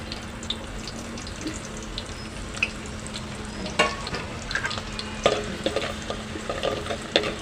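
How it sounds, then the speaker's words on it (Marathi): Onion frying in hot oil in a clay pot for prawn curry, a close crackling sizzle with irregular scraping and clinking stirs, louder bursts toward the end, no talking. "आता मी तेल गरम झालेलं आहे आता मी कांदा घालत आहे फोडणीसाठी"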